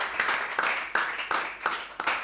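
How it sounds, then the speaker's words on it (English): Applause for a school quiz team at a quiz show, several distinct bursts of clapping in a steady rhythm, fairly faint and recorded without talk over it. "Teacher ISHMAEL Memorial School, 3 marks, a round of applause"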